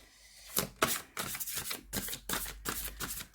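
Tarot cards are reshuffled by hand, producing a close run of quick riffling and slapping bursts with short pauses between them, soft and without talk.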